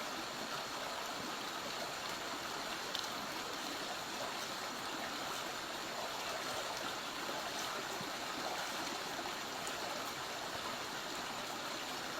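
A natural, clear river stream flows steadily outdoors, producing an even, continuous rushing wash of water with no talking throughout.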